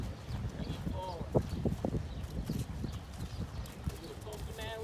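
Horse hooves clop steadily on the ground as the horse moves through side passes during first-ride prep training, close and moderately loud, with a voice present.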